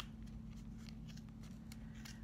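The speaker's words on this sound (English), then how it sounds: "I have a little room to get my scissors in there" Scissors snip repeatedly through fuzzy pom-pom yarn during craft work, a run of short, crisp cuts close to the microphone against a steady low hum.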